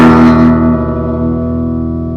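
An electric guitar chord rings out through the clean channel of a Lang amp, a bright strummed attack that sustains and slowly fades over two seconds, with no reverb and no voices.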